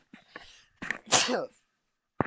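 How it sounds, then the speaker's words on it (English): A single sharp human sneeze with a quick inhaled build-up, close and loud, followed by a brief pause and the start of another sound. "I realised I was going to sneeze, but didn't have time to say."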